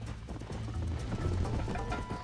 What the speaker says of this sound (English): Horses aren't really good at sharp turns.